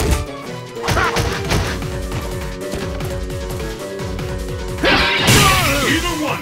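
Rapid punching hits from Dudley's Machine Gun Blow in Ultra Street Fighter 4 play as a dense burst of smacks and thuds over game music, ending in a louder crash, with voices over the action.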